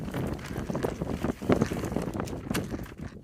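Strong gusty wind buffeting the microphone on a mountain top, a loud continuous roar with rattling flutter throughout.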